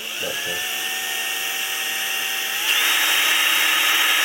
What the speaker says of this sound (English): when you drill it, you use the back of the pliers and you pilot drill it